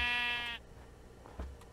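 A single sheep in the Minecraft Better Than Wolves game gives one loud, buzzy bleat lasting about half a second, then a quiet pause with soft game noises.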